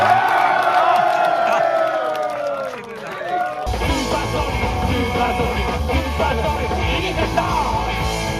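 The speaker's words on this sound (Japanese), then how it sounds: "拍手が鳴りやまないですね。" Loud festival crowd at a rock festival cheering, yelling and clapping continuously, with a dense roar that thickens midway as a deep rumble joins in and voices whoop over it.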